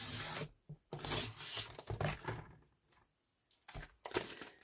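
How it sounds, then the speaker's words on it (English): Paper from a resealed envelope is trimmed close up, making repeated scratchy rubbing and cutting strokes in irregular bursts with brief pauses between them. "I'm just going to trim that and make sure I don't cut into the stamp."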